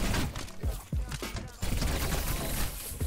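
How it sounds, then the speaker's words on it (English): Fireworks exploding in the video game Overwatch, a rapid string of sharp cracks and pops in irregular bursts, loud and close, with no talk. "We got fireworks."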